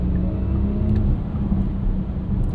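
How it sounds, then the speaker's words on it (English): Porsche Macan 4S Electric, a 509 hp electric SUV, driving with its artificial electric sport sound switched on, a steady low synthetic hum and whir heard from inside the cabin. "we should turn on our electric sport sound"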